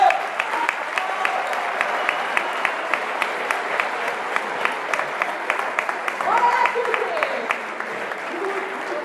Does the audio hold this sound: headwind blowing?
no